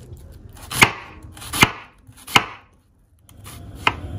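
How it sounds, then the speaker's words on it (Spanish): Knife chopping cilantro on a cutting board for cueritos tostadas: four sharp, close chops spaced roughly evenly with a pause before the last, no talking. "Vamos a picar el cilantro también."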